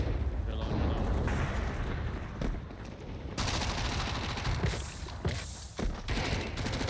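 Dense, continuous gunfire and fiery crackle from a molotov in Counter-Strike 2, loud and sustained with repeated bursts and sharp cracks, with a voice faintly under the din.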